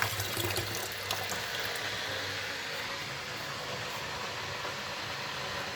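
A mussel is rinsed under a running tap, giving a steady, faint, close hiss of flowing water with no talking.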